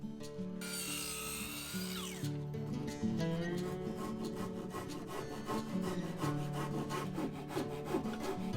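A Japanese hand saw cuts a wooden kamoi door rail with rapid, rhythmic rasping strokes, close and steady throughout, after a brief high scraping start, with no voices.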